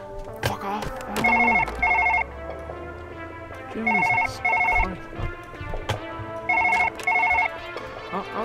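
A telephone rings repeatedly in Surgeon Simulator 2013, loud paired electronic trills in three bursts with pauses between, while someone talks and game noises clatter underneath.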